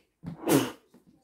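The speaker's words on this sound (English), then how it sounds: "Need to blow my nose with the sneezing" A single close, sharp human sneeze with a brief breathy lead-in, followed by quiet breath sounds.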